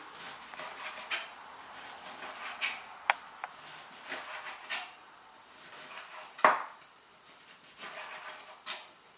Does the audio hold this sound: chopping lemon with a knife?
yes